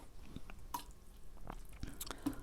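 Water from an elephant-shaped watering can trickles onto freshly sown seeds in soil, making faint, scattered drips and soft wet splashes up close with no talking.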